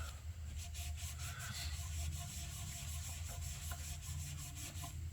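Wax rubbed by hand onto the wooden body of a Harley Benton DC-600 guitar, a soft, steady back-and-forth swishing, close and faint, with no voices.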